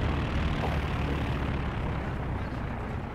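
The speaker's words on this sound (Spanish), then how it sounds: "Y ahí los aviones" Warplanes fly overhead in the World War II strategy game Company of Heroes 2, heard as a dense, continuous roar of aircraft engines that stays loud and steady throughout.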